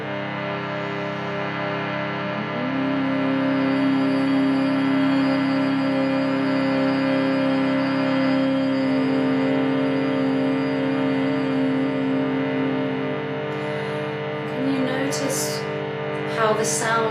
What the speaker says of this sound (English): Maybe another one like that, just humming.